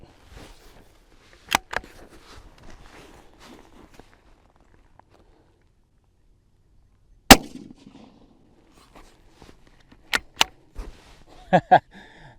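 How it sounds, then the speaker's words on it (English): Sharp, loud rifle reports from a .17 Hornady Mach 2 fired at a ballistic gel block outdoors: one at about 1.5 s, a louder one near 7.3 s, then a cluster of cracks late on, with footsteps and handling noise in between. "We're going to shoot one here about 8 inches from the gel block."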